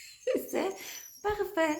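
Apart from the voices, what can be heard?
dog whimpering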